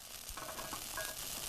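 A dish in a wok sizzles and fries, heard as a faint, steady hiss with light crackles from mussels seared with black bean sauce over cellophane noodles.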